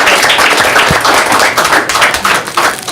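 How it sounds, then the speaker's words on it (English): Another round of applause at a school district meeting, a loud, steady wash of many hands clapping close by, continuous throughout with no talk over it. "Let's give her another round of applause."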